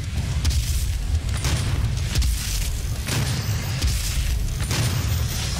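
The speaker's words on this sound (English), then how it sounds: "I want to use remote detonate." Repeated heavy booms from remote-detonated rockets in Doom 2016, loud rumbling blasts arriving every second or so over dense game noise, with no speech.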